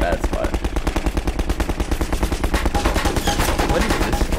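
Rapid, steady enemy gunfire in Half-Life 2 rattles on without pause, dense overlapping bursts of automatic shots close by and loud throughout.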